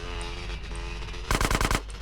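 Uzi fire in GTA San Andreas during a bank robbery shootout, a short loud automatic burst of rapid shots that cuts in after a steady background hum of game ambience.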